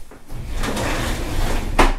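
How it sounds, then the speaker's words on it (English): Plastic clunks and a sharp click come from the red release buttons on a Graco Blossom high chair seat as it shifts, close up and fairly loud, with no talking. "These red buttons right here are what you hear clicking."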